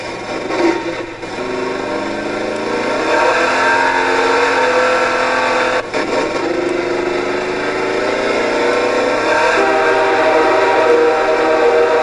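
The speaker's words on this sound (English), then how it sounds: "That train was for a reason." A train rolls past in the video game Half-Life 2, a loud, continuous grinding rumble with metallic scraping that holds steady throughout.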